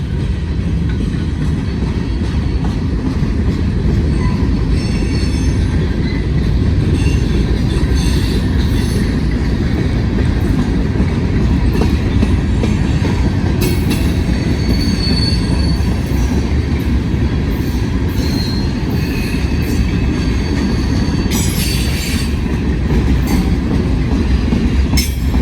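Freight trains roll through a rail wye with a loud, continuous rumble of wheels and cars, punctuated by metallic wheel squeals and clickety-clack over track joints, close and sustained throughout.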